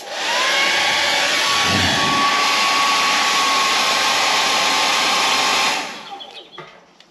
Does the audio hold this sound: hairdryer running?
yes